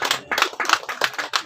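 An audience claps in quick, uneven bursts of hand claps, close and lively, with a faint voice underneath.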